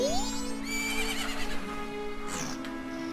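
Horse neighing in the video game The Legend of Zelda: Majora's Mask, a single rising whinny followed by a quick fluttering snort, clear and alone over a steady game music bed.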